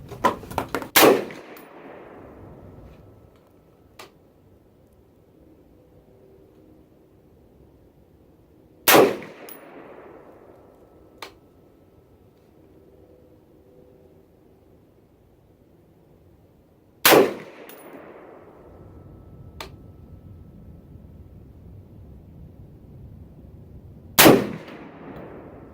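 A PSA PA-65 rifle chambered in 6.5 Creedmoor fires Hornady Superformance 129 grain SST rounds outdoors: four loud, sharp reports spaced several seconds apart, each trailing into a fading echo, with quiet between shots.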